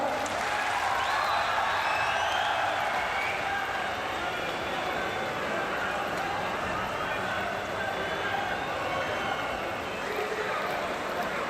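A crowd at a traditional Uyghur wrestling contest applauds and cheers in a sustained, dense wash of clapping and voices, steady and loud throughout, with an announcer's voice carrying over it.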